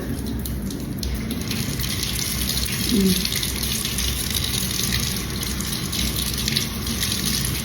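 Water runs steadily from a new faucet attachment used for face washing, a continuous close splashing gush filling the whole stretch with no clear talk.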